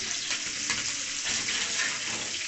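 Coconut and ground ingredients frying in ghee for Punjabi chana panjiri, a soft steady sizzle with faint stirring scrapes, heard close and alone at low volume.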